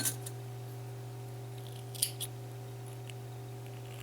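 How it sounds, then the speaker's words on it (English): Scissors snip through yarn in a few quiet, sharp clicks scattered over a faint steady hum, recorded close and low in level. "I'm just going to cut my yarn off because this is ridiculous now."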